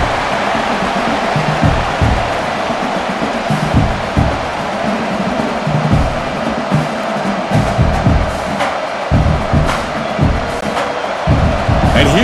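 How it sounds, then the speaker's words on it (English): Stadium crowd noise in the video game College Football 26 during a red-zone defensive stand, Texas Longhorns against Mississippi State, a roaring cheering mass swelling in waves, with commentary voices talking over it. "This crowd is trying to inspire this defense to make a big red zone stop."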